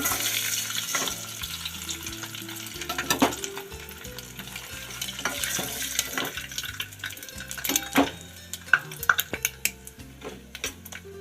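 Eggs frying in oil for an egg masala curry, a low sizzle beneath frequent metallic scrapes and clinks of a spoon against the pan, with irregular stirring taps building toward the end.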